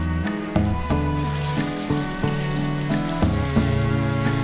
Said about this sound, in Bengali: চিকেনটা সময় নিয়ে কষাতে হবে যাতে যেটুকু জল ছেড়েছে সেটা শুকিয়ে যায়